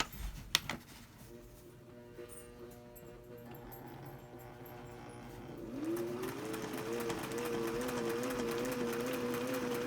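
A sewing machine stitches a zigzag satin stitch on fabric, its motor running in a steady close whir that rises in pitch partway through, with a brief voice at the start.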